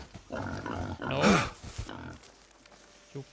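A feral pig in the hunting game theHunter: Call of the Wild gives a run of rough, close grunts that peak once in a louder squealing grunt and then fade.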